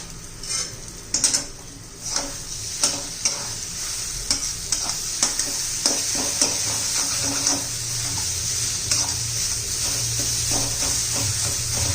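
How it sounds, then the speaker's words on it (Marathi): Green pea paratha filling heating in a pan, a steady sizzle with repeated clicks and scrapes of a spoon stirring through it, close and continuous with no talking. "चांगला असा गरम करून घ्यायचा कच्चेपणा गेला पाहिजे वाटाण्याचा"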